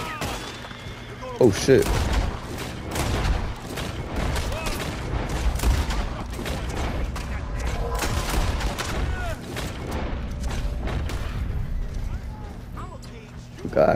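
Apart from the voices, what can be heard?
gunfire in video game Red Dead Online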